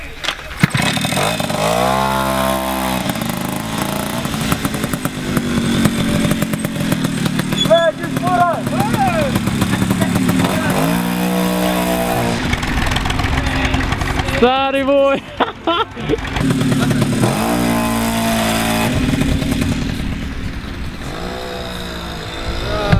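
An engine starts and revs, its pitch rising and falling in a few surges while several people talk loudly and continuously over it.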